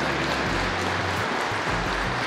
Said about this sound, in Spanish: brindarles un fuerte aplauso a COICA